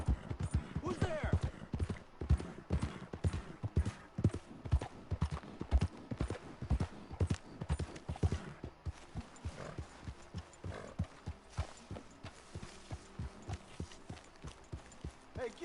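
Horse hooves clip-clop steadily in Red Dead Redemption 2, a dense run of close hoofbeats that eases into a sparser rhythm partway through, with occasional voices and a brief whinny mixed in.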